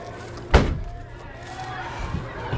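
A car door shuts with one heavy thud close by, followed by faint rustling and low background noise.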